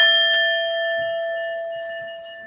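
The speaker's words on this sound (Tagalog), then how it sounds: "ring your bell" A meditation bell rings once, and its clear metallic tone sustains and slowly decays, with faint room noises beneath the fading ring.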